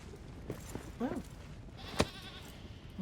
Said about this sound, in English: I just heard a goat?